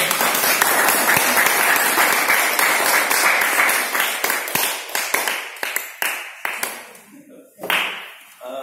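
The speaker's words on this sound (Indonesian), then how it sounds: "Kita beri aplaus dulu aja ya." Applause and clapping from a seated audience at an indoor internet and wiki workshop, loud and steady at first, then thinning into scattered claps that fade out.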